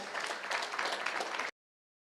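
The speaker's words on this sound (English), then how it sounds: "another hearty clap for Leah" An audience at an investment forum in Adelaide, Australia, claps for a presenter: dense, steady applause from many hands, fairly close and even in level, running for about a second and a half before stopping abruptly.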